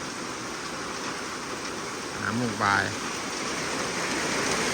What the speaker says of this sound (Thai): ฝนตกพี่น้องเลย